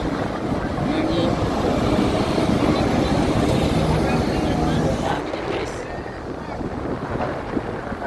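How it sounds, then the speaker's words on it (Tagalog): Strong wind buffets the microphone in heavy rumbling gusts at an outdoor protest rally on EDSA, easing somewhat toward the end, with voices faintly underneath. "Ay, lakas ng hangin."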